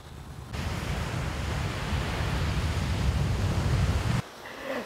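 Steady surf rolling onto the sand at Haeundae beach in Busan, a broad continuous wash of breaking waves close by with some wind, running alone for about four seconds before cutting to quieter ambience.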